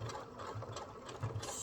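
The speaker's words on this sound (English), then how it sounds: "sew it on, making sure your stitches are just where you want them" A sewing machine stitches a fabric patch onto a wallhanging, giving a faint, quick mechanical whir with soft repeated thumps from the needle.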